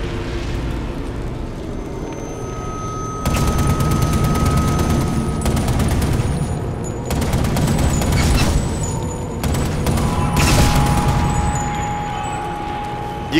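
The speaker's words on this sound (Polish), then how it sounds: "Ostrzegawcze, trzy strzały." Gunfire in the Sniper Elite Nazi Zombie Army 2 video game, loud bursts of rapid shots and booming impacts that come in several waves over a rumbling background.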